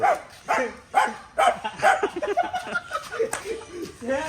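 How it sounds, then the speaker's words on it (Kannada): A dog barks several times in quick, uneven bursts, close by, mixed with laughter and lively voices. "ನಾಯಿ"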